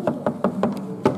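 Knuckles rap on a piece of furniture in a furniture store, testing whether it is solid wood, giving about five short, close, dull knocks spaced evenly in quick succession.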